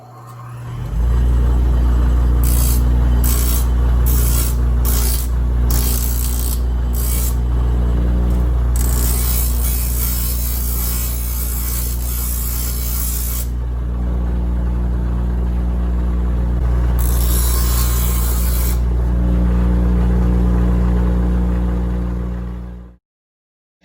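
A bench grinding wheel whines loudly and steadily while a steel card scraper's edge is pressed against it. Several short hissing, spraying bursts come early, then longer stretches of contact, before the wheel spins down at the end.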